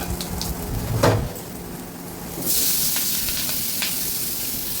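Green chilies and potato pieces are stirred while frying in a pan, with a close, loud sizzle, a clatter of stirring early on, then a sudden surge of hissing that holds steady to the end.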